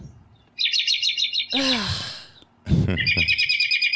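Recorded bird calls play in repeated high chirping trills, cut by a short swooping whistle-like call and a burst of noise, then the rapid trilling chirps resume loud and close.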